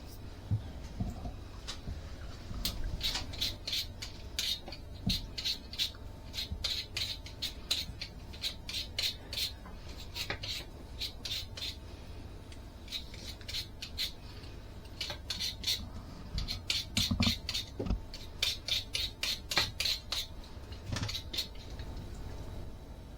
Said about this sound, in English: I'm sure you didn't want to watch me peel potatoes with Mr. Spud